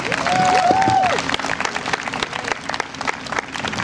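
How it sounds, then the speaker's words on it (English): Crowd applause at an outdoor Wear Orange gathering against gun violence in a park, with a short whoop or cheer at the start, then clapping thinning and fading over a few seconds. "Please give her another round of applause."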